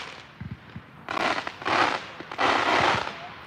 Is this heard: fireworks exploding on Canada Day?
yes